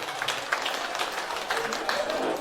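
Audience applause at a Kazakh first-birthday celebration, a dense wash of clapping from a crowd that continues steadily throughout with a person talking over it.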